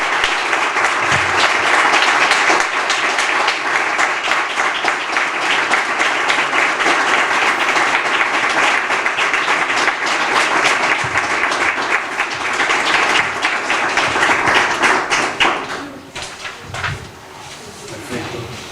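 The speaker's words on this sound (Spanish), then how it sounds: "quiero pedirles un fuerte aplauso para Juan" Sustained applause from an audience at a book presentation for an author's first book, dense and steady clapping for about fifteen seconds before tapering off into quieter scattered claps.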